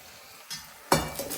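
Cooked keerai greens are mashed in a pan, heard as a couple of quick scraping, clinking bursts of a utensil against the pan, close and fairly loud.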